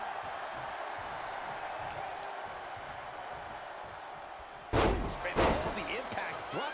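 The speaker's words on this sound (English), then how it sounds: "Shot after shot, and they're slamming their face down" A wrestler's face is slammed into the mat in the WWE 2K23 video game, Seth Rollins versus Jey Uso: a sudden loud thud with crowd reaction follows a steady murmur of arena crowd noise, then a second impact.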